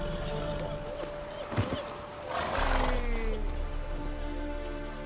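A horse in The Witcher 3 gives a loud neigh and snort, then a long whinny trailing off, with hoofbeats and ambient game sounds underneath.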